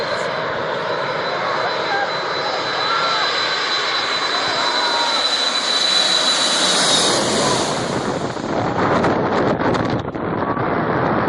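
A Boeing 747 airliner landing, heard from inside the cabin as a loud steady roar of engines and rushing air that swells, then turns rougher and rumbling as it touches down.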